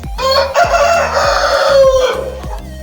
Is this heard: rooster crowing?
yes